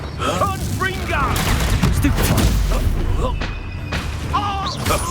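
Confringo blasting spells and explosions in Hogwarts Legacy combat: repeated booming blasts and crackling impacts layered over busy game sounds and music, with a voice calling out spells amid the noise.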